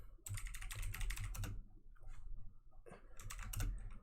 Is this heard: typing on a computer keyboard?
yes